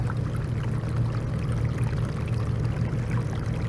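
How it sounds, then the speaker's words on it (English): Water gushes steadily out of a French drain outfall pipe, a dense, continuous splashing pour that is close and fairly loud, with no talking over it. "So look at all that water coming out of there."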